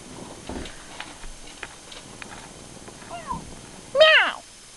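A pet cat in the Petz 5 game gives one loud, sliding meow near the end, after a stretch of soft taps and faint, scattered sounds.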